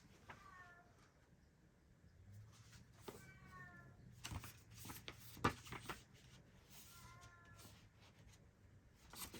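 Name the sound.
cat meowing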